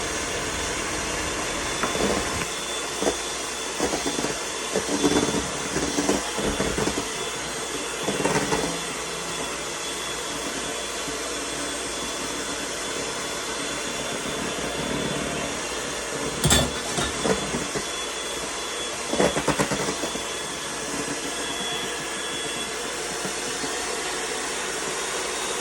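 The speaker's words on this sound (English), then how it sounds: "Blend it until it's blended very well." An electric mixer blends egg yolks into egg whites for a chile relleno batter, giving a loud, steady motor whir that runs the whole time with a few brief bumps and surges.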